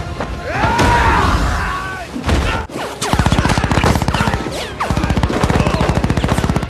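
Action-film gunfire rattles in loud, sustained automatic bursts amid crashes and booms from a military assault on armored cars, with rapid staccato volleys dominating the second half and no clear talking.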